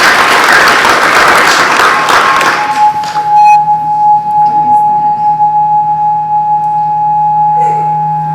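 A board of education meeting audience claps loudly for about three seconds, then the applause cuts off, leaving a steady electronic hum with faint taps and room noise.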